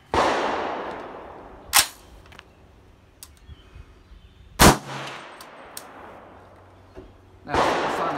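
Unsuppressed supersonic 300 AAC Blackout rifle fired from a 9 inch barrel on a 100 yard outdoor range: three loud, sharp shots spaced a few seconds apart, each ringing out and decaying over the quiet background.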